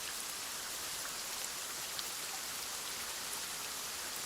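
Rain falls steadily as an even, dense hiss of drops on surfaces. The downpour is continuous and moderately quiet, with no voices.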